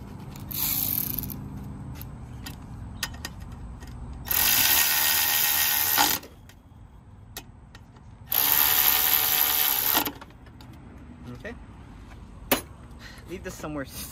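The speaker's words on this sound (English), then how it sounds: "we're just going to put these screws back in just so we don't lose them" Screws being driven back into a 2006–2007 Honda Accord engine bay with a ratchet tool: two loud, steady bursts of about two seconds each, separated by quieter gaps with faint handling noises and light clicks.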